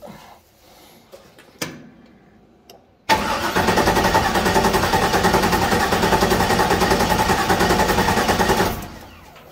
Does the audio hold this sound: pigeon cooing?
no